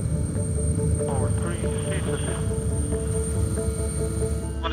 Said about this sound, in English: we're going to stop the helicopter, we're going to shut down the engines